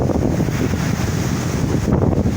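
Ocean surf rolls onto the beach at a beachfront estate near Lekki, a steady loud wash of waves under strong wind buffeting the microphone.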